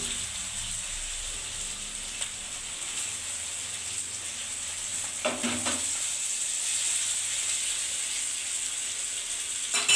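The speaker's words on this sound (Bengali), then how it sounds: "এইবারে পটলে যে দোলমা হবে আমি 1 পিস করে দিয়ে দিচ্ছি" Pieces of stuffed pointed gourd are placed into a sizzling spice paste in a pan, giving a steady, moderate frying hiss with one brief clatter midway and no talking.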